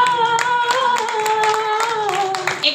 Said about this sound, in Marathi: एकदा जोरदार टाळ्या वर्षाताईंसाठी झाल्या पाहिजेत